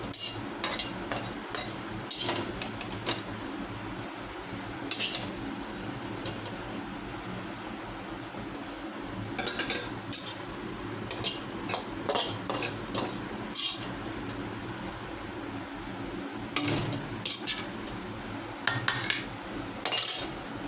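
Potatoes fry in a pan under a steady low sizzle, while a spatula or spoon scrapes and clinks against the metal in short repeated bursts of stirring.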